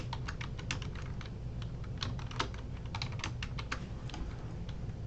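Quick bursts of clicking keystrokes on a computer keyboard as a password is typed, close and moderately loud, in uneven clusters with brief pauses, no talking.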